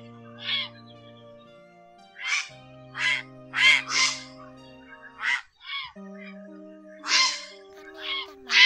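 Grey herons, two birds calling to the flock, give harsh, croaking squawks in irregular bursts, about ten calls spaced a second or so apart, loud and close over a faint steady tonal hum.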